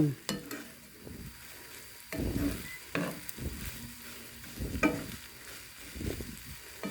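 Fried rice stir-fried in a pan in a home kitchen, rhythmic scraping and tossing strokes over a soft sizzle, close and fairly loud, with no one speaking.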